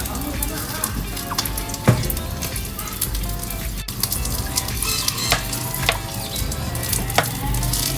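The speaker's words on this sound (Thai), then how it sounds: "จะเอามาย่าง บนน้ำมันนิดหน่อยค่ะ เพื่อไม่ให้มันติดกระทะ" Steady oily sizzling of saba mackerel frying in a lightly oiled pan, continuous and close, with a few sharp clicks and scrapes now and then.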